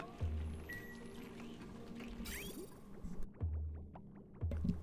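In the Oxygen Not Included video game, liquid drips into a container, heard as faint, soft, irregular splashy drops over a quiet game backdrop.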